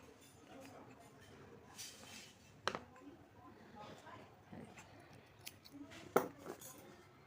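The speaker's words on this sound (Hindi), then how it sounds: "एक्स्ट्रा जो धागा है उसको हम इस तरह काट देंगे" Scissors snip off extra embroidery thread, two small crisp clicks heard close but faint against a quiet room, with soft handling noises between them.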